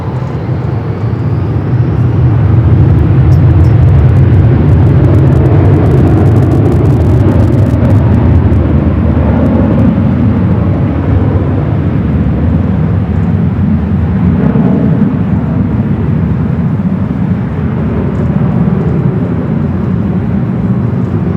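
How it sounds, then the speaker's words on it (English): A Boeing 777-300ER taking off at LAX, bound for Beijing, produces a loud, sustained jet roar with deep rumble that swells and holds across the whole stretch, heard alone without talk. "Heading back to Beijing, the 777 at 300ER heading up here for north side at takeoff."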